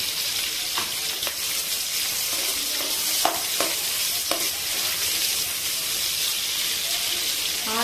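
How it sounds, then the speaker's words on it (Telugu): Onion pieces sizzle steadily in hot oil for a chicken curry, a loud close hiss that runs throughout with a few sharp spoon clicks against the pan and no speech. "ఆయిల్ వేడెక్కిన తర్వాత ఆనియన్ ముక్కలు వేసుకోవాలి."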